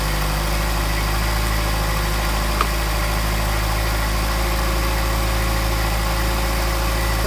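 A Mercedes 190SL engine with Solex carburetors idles while warming up, giving a steady, close, low rumble with an even mechanical hum that holds unchanged for over seven seconds.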